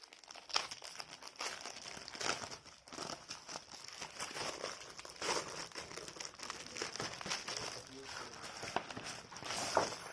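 Meesho parcel packaging being torn open and handled, a steady run of plastic crinkling and rustling with scattered louder crackles, close by with faint background voices.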